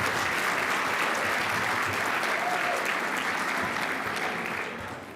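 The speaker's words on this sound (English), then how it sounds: "So let's give them a round of applause." Dense, sustained applause from a large audience at an annual conference awards dinner, a continuous roar of clapping that holds steady then begins to fade at the end, with no talk.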